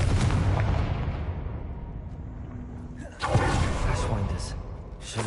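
A Confringo fire spell blasts in the Hogwarts Legacy game, a loud rumbling explosion that fades over a few seconds before a second heavy burst erupts, both close and full.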